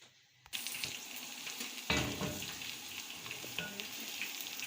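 Onions frying in hot oil with garlic-ginger paste for a tinday and chicken dish, a dense, steady sizzle close by after a short quiet start, with a louder burst of spattering partway through.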